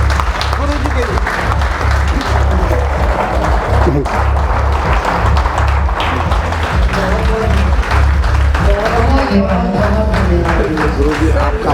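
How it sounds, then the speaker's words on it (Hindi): Vigorous applause from an audience at a spiritual talk goes on steadily and loud for the whole stretch, with voices audible through it. "एक बार जोरदार तालियां गुरु जी के लिए।"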